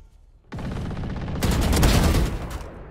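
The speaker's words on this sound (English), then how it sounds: "I heard gunshots from my left, so I thought he was at me." Rapid gunfire from Valorant, a sustained burst of automatic shots that grows denser and louder midway through, with no talking.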